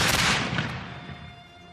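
An early firearm such as a musket or small hand cannon discharges once, a loud close blast with a crackling burst that decays into a fading rumble and echo, no voices.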